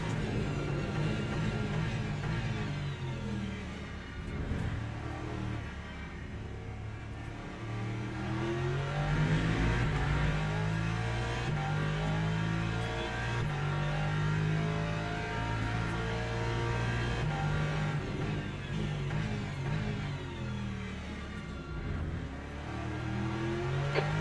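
Race car engines roar around the Spa circuit in the Le Mans Ultimate sim during a 62-car endurance race, a loud, continuous layered drone with rising and falling revs as cars accelerate and shift.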